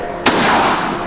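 One loud gunshot cracks sharply, then a long booming tail rings out close by for about a second.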